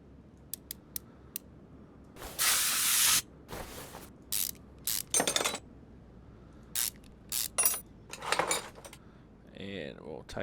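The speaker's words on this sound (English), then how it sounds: "I will take off the brake caliper." Brake caliper being removed in Car Mechanic Simulator, a series of separate game sound effects: quick ratchet clicks, bursts of wrench and metal clatter, and a final short mechanical clunk, each brief against quiet.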